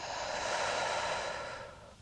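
A slow, soft exhale through the nose during a calming evening yoga breathing cycle in lotos pose, a smooth airy breath lasting about two seconds that gradually fades away.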